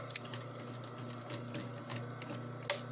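Sewing machine backstitching a quarter-inch seam on fabric, a soft, steady mechanical whir with light ticking and two sharper clicks, heard close and faint with no talking.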